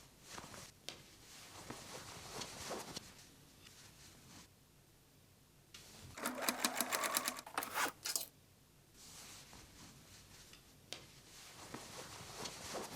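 A sewing machine top-stitches the edge of a shoulder bag made from old denim jeans in a fast, close rattling burst, framed by quieter handling, rustling and clicks before and after.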